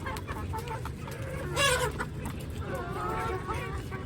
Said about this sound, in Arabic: بصوا كل دي فراخ فيومي، كل دي فراخ فيومي